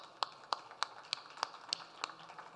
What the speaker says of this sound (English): I think you own a big applause.